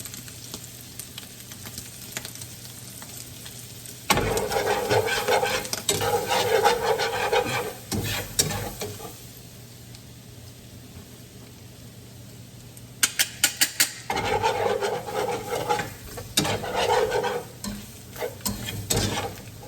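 A whisk scrapes and stirs a roux in a pan for biscuit gravy, with bursts of rapid rhythmic scratching and sizzling alternating with quieter stretches and a few sharp metallic clicks.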